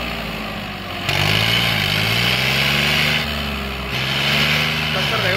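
A modified King Kong 150 HP tractor engine runs close by with a loud, steady rumble, rising in pitch as it revs twice, while someone talks over it.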